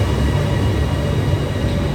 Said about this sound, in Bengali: চলে এসেছে সিটি লাইন মেট্রো